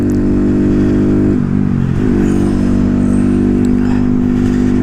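Honda Grom motorcycle fitted with a Coso performance air filter, its engine droning loud and close at steady speed on a ride, with a brief dip and rise in pitch around a gear change, no talking.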